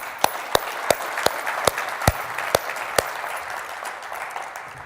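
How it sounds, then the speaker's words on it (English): A crowd at a CEO conference applauds steadily, with a few sharp, evenly spaced claps standing out above the sustained patter of many hands. "Let's give him a round of applause."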